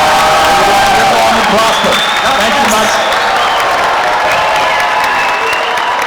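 An audience at a Star Trek convention panel at FanX 2024 applauds and cheers, dense steady clapping with scattered whoops filling the room, while a voice briefly speaks over it.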